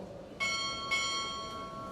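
A ship's bell is struck twice at a Navy Chief Petty Officer pinning ceremony, two clear ringing clangs roughly half a second apart whose tones hang and fade slowly over soft room ambience.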